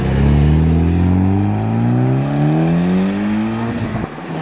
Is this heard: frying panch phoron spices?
no